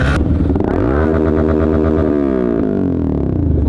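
A group of seven or eight motorcycles rides together on a road, with loud engine drone rising and falling in pitch as the bikes pass and rev close by.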